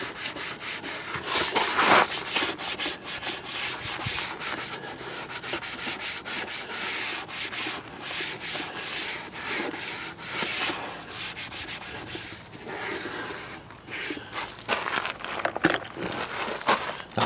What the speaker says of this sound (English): So take the scouring pad again.